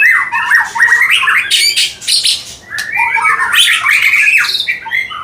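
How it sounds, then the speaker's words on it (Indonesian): A forest bird squawks loudly and close by in two harsh, raspy bursts of calls with a brief pause between, at a bird kiosk, no voices. "Oh ini burung. Ini burungnya."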